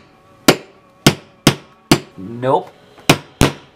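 Sharp, loud metal-on-wood strikes as a wood chisel is hammered to pry apart an old suitcase, seven evenly spaced whacks about half a second apart, with a brief spoken word between them.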